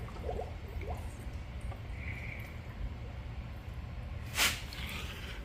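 Water gurgles and drips as it fills an Aquael Hypermax 4500 aquarium canister filter, a low continuous churn with scattered small splashes and one brief sharp hiss near the end.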